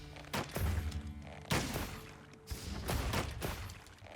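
Bow power shot in the Monster Hunter Wilds video game, a rapid burst of heavy booming impacts and whooshes in several loud waves over a few seconds, no speech.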